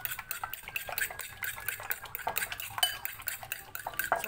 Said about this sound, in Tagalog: ito naman po ay haluin natin yung egg